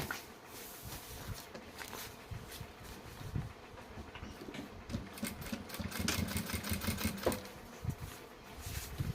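Sewing machine stitching a bag lining, a buzzing, rattling motor drone with fluctuating intensity and brief needle clicks, moderately close and continuous throughout.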